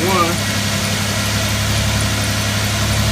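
A 2000 Lincoln LS engine runs steadily at a raised, revving pitch just after starting, close by, with a constant low rumble and hum throughout.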